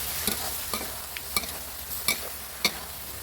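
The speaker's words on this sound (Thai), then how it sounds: "ผัดให้มะเขือเปาะสุกนะครับ" Thai eggplant being stir-fried in a hot pan with a little liquid, a low steady sizzle broken by a few sharp scrapes and clacks of a spatula stirring, close and alone.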